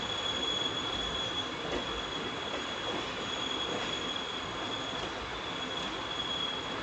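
The Karaikal Express rolls toward Erode Junction with a steady loud rumble, a high wheel squeal running throughout, heard from on board with no talking.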